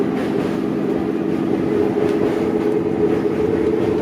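A Howrah–Digha EMU local train crossing the Narghat rail bridge over the Haldi river, a steady loud rumble and low drone heard from inside the carriage, continuous throughout with no talk.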